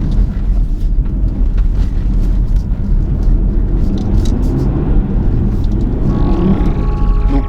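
Cupra Formentor VZ5 with its five-cylinder engine driving on a road: a loud, steady engine drone and road rumble with wind noise, heard close throughout.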